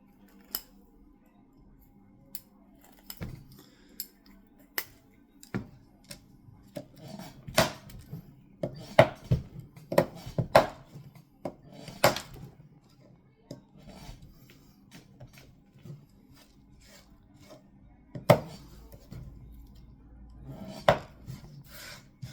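A knife slices through a zip tie in a series of sharp, isolated snaps and clicks, some close and crisp, scattered irregularly over quiet background.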